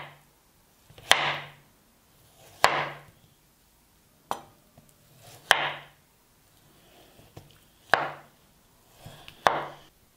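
Boiled potatoes in their skins, still a little firm, cut with a knife on a board: six sharp chops spaced about every one to two seconds, close and fairly loud, with no talk.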